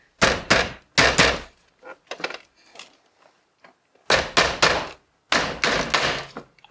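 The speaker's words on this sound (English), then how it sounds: "I just want to give it a couple of whacks here." A car steering wheel being whacked by hand to loosen it during an aftermarket wheel install gives sharp, loud thumps in pairs, with a few lighter knocks between them and silence around.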